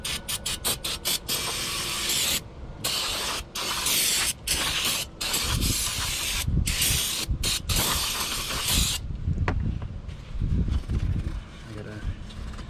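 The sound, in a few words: spraying brake cleaner on car parts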